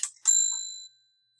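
A phone notification chimes in a short two-note pattern, a bright ringing tone that decays over about half a second, alone and fairly clear with no talking.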